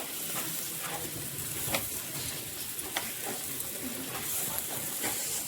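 Chicken sizzles in a pan over a wood-fired stove with a constant close hiss and crackle. A few soft scrapes and knocks come as the pieces are turned over.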